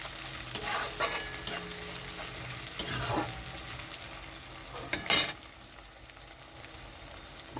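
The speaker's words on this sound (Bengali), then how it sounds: "এখানে চিংড়ি মাছ পেঁয়াজ সব ভালো মতো ভাজা হয়ে গেছে।" Prawns and onions fry in a pan while a utensil stirs them, giving a steady sizzle broken by several louder scraping strokes, all close by with no talking.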